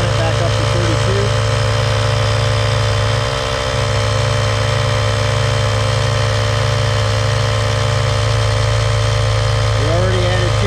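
A Fiat 124 Spider's tire inflator kit pumps up a car tire after cold weather, its steady motor drone and vibrating hum running continuously and loudly for the whole stretch, with a brief dip partway through.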